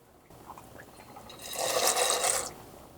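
Salt and pasta go into a pot of boiling water for a dill pickle pasta salad, giving a brief rising splash and hiss of water in the middle of a short quiet stretch.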